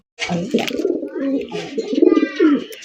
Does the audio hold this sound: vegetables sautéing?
no